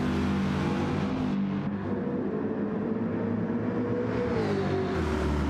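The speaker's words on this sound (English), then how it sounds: "The engine doesn't sound as hard as it is usually on a one lap run" A race car engine drones steadily at moderate revs while the driver saves fuel, a loud, close, continuous hum with a slight pitch dip midway and no sharp revving, heard alone without talk.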